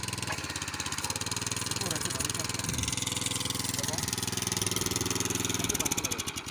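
A motorized tiller engine, used for plowing, runs at a steady idle with an even mechanical drone throughout, with voices faintly present underneath.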